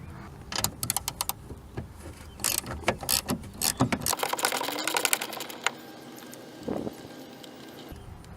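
A ratchet loosening 15 mm rear strut nuts on a 1997 Buick LeSabre gives bursts of rapid clicking with short pauses between, close and fairly loud, ending in quieter metallic handling.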